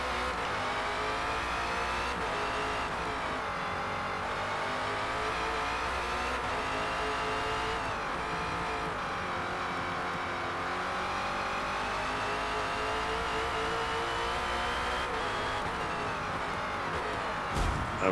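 The #17 Ford Falcon FG X race car in Forza Motorsport on the Nordschleife, its engine droning loud and close and climbing through revs with gear changes and brief tyre noise, with no talk.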